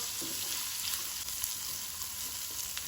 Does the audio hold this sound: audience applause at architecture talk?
no